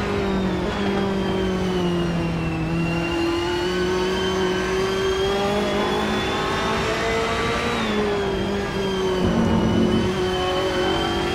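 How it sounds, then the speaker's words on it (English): An onboard race car engine at the Mugello circuit drones loudly and continuously, its pitch rising and dropping through gear changes and throttle lifts, heard from inside the cockpit. "So inside the cockpit with Brad Maris on the roll cage cam."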